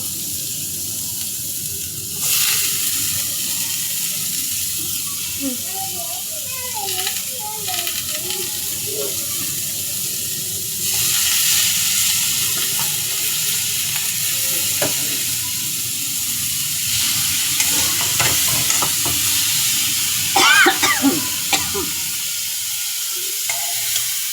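Fried vegetables, jackfruit seeds among them, tipped into a hot pan for a stir-fry of drumsticks, potato and prawns, sizzling steadily with scraping stirs and clinking; a stretch of running water sounds midway, and no one speaks.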